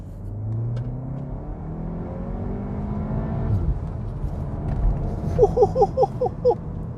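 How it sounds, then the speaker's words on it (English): A Cupra Ateca engine revs and accelerates hard, pulling strongly even at low revs, rising in pitch with a strong low rumble, then a series of sharp rhythmic bursts near the end. "the engine, it pulls quite strongly, even low down in the rev range"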